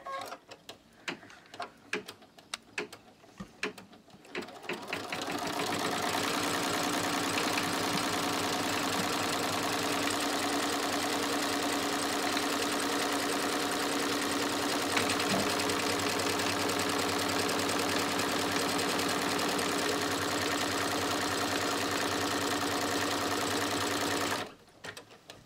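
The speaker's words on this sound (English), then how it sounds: "So I'm just going to go ahead and stitch the placement." An embroidery sewing machine stitches a placement line for an in-the-hoop mug rug. A few seconds of stop-start clatter give way to a steady, even mechanical whir that runs for about twenty seconds and then cuts off.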